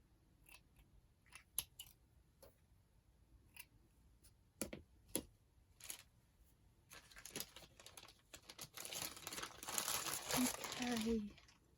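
Scissors cut away the factory edge of a paper journal page: scattered snips and rustles at first, then steadier and louder crinkling cuts near the end. Faint talk is heard under parts of it.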